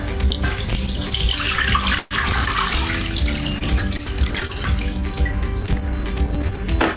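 Purified water pours steadily into a cooking pot holding chicken and a little salt, a continuous splashing rush with a brief break partway through, close and fairly loud, with no talking.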